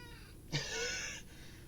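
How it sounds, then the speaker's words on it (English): A pet cat gives a single drawn-out meow lasting under a second, fairly close and clear over a quiet room background. "I can literally have conversations with this cat."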